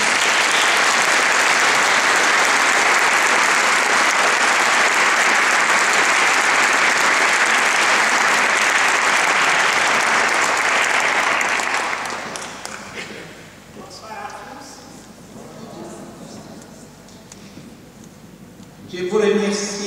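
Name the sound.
audience applause for Thérèse coming on stage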